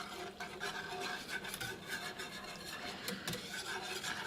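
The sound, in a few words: whisking flour into milk and chicken broth mixture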